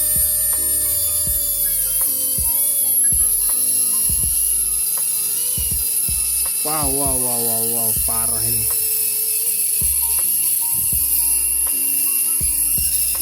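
A vintage Tamiya or Auldey mini 4WD electric motor spins at high RPM with a loud, steady, shrill whine throughout. Sharp clicks and handling knocks sit underneath, and a person speaks briefly partway through.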